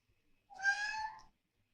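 A cat meows once to be let out, a single quiet indoor meow of under a second in otherwise near silence.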